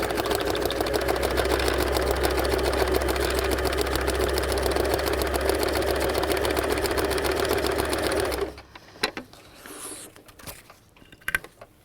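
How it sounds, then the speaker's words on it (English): A sewing machine fitted with a free motion foot stitches detail into paper, running in a steady, loud mechanical whir for about eight seconds before stopping abruptly, followed by a few faint clicks and handling noises. "So with the sewing machine with a free motion foot on it, we would then sew some detail into the paper"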